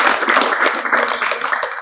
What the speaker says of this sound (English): A round of applause to these women